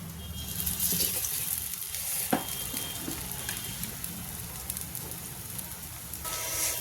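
Besan-coated parwal (pointed gourd) with a green chili frying in a pan makes a dense, continuous crackling sizzle at close range, with one sharp tap partway through and no talking.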